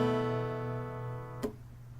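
A single guitar chord rings out with steady sustain, fairly quiet, then is cut off by a short muted thump near the end.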